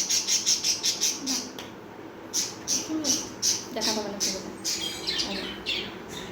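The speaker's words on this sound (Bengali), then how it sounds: "পাখিগুলো কেমন চেঁচাচ্ছে" Birds screech in rapid, repeated bursts, a shrill series of calls that pauses and resumes, with a person speaking briefly in between.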